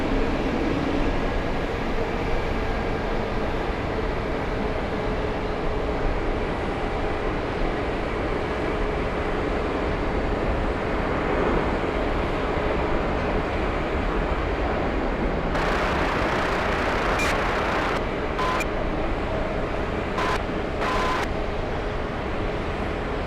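A JetBlue airliner at JFK airport, heard as a steady, broad engine roar throughout. Brief bright crackles and clicks break in around the middle and toward the end.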